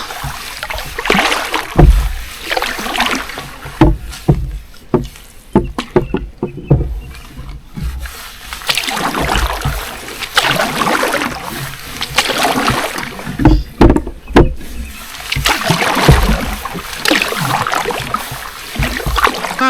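Canoe paddling on open water during a first canoe trip of the year, with paddle strokes dipping and splashing at a steady rhythm, close and clear, with no voices.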